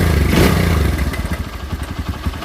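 A carburetted motorcycle engine running steadily after carburetor tuning, a loud, close, throbbing idle with a clattering mechanical pulse and no speech.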